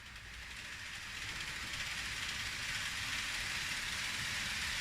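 Model trains run on a layout with an incline, giving a steady, moderately quiet rolling rumble and clatter that swells slightly and continues without pause.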